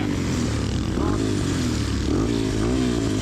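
A dirt bike's engine runs loud and steady just after a kick start, its close, continuous rumble rising slightly in revs, with voices briefly heard over it.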